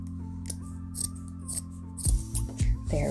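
Scissors snip through fabric along a seam, a run of crisp, close cuts with steady rhythm, getting louder and more rapid toward the end, with no talking.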